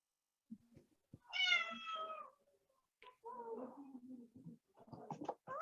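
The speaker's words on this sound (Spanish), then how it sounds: "se escuchó el gato que dijo mío" A cat meowing indoors, several distinct plaintive meows of varying length separated by short pauses, close and clear with no talk over them.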